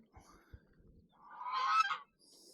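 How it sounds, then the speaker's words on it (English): Two geese on a homestead let out a loud, harmonic burst of honking that builds and peaks close by, after a stretch of soft thumps and quiet, low background noise. "2 geese that won't fly away."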